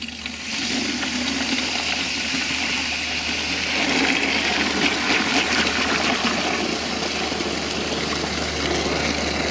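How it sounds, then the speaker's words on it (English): Water gushes steadily into a 2 gallon watering can for several seconds. The rushing, splashing flow is close and loud and continues without pause, with no talking. "fill her up with water here"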